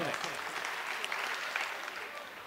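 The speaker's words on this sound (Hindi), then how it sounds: "आप उनका इस्तकबाल तालियों से करें" Steady applause from a crowd at an Urdu mushaira poetry gathering in Bangalore, dense continuous clapping that fills the whole stretch at an even level, tapering off slightly at the end.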